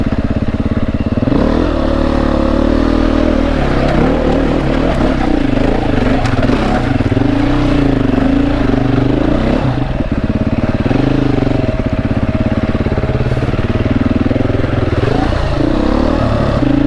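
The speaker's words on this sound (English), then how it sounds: "I rode down that hill to just ride back up and get some camera footage of me riding by." A Beta 480 RR dirt bike climbs back up a steep hill, its single-cylinder engine loud and close, revving and labouring continuously with rough throttle surges and clattering the whole way.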